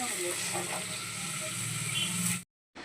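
Okra frying in a pan gives a steady, close sizzling hiss with faint crackles, running continuously before cutting out abruptly near the end.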